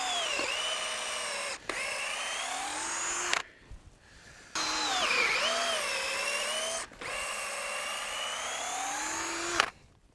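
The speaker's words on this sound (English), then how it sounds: "We've got to get our post drilled to put in our brace pins" A power drill fitted with a 12-inch, 3/8-inch bit bores into a wooden fence post for brace pins, whining loudly in three long bursts with brief pauses and a pitch that dips under load.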